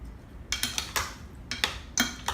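Flour stirred with a pinch of pepper and salt in a bowl, giving a few quiet scraping, clinking strokes in short uneven bursts, close and alone.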